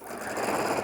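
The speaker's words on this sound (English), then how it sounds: "Okay, we're going to use the automatic cutter." A sewing machine's automatic thread cutter runs during thread-painting work on a wall hanging, a short steady mechanical whir lasting under a second, close and fairly quiet.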